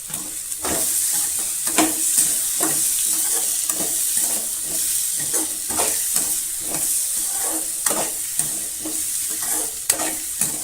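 Chopped tomato sautéing with radish in a pan for a spicy radish chutney, a steady close sizzle and frying hiss with repeated stirring scrapes through the whole stretch, no voices.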